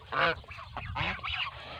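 Several harsh, nasal honks from geese in quick succession, close by, one louder call followed by a few overlapping ones.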